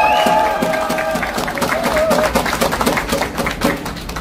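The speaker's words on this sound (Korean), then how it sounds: "여러분 우리 최대영 목사님 힘내시라고 박수 한번 쳐주십시오" Crowd applauding and cheering at a street rally, a loud burst of clapping that gradually thins out.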